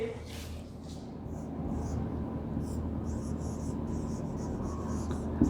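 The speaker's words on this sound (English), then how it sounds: "So let me write this." Pen or marker writing on a board in a classroom, a soft steady scratching and tapping of strokes over a low hum, with some faint voice in the background.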